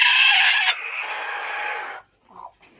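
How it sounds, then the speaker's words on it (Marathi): A broody native country hen gives a loud, drawn-out cluck up close, then trails off into a softer, shorter call before falling quiet. "ही एक खूड कोंबडी, सगळे खूड कोंबड्या"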